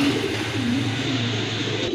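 Rajgolla pigeons coo close by in a soft low rolling call, heard over a constant steady background hum that fills the whole short stretch.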